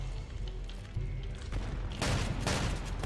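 Explosions and gunfire from a Roblox SCP shooter game: a continuous crackle of shots with a heavier burst of blasts in the second half, loud and dense, with no talk.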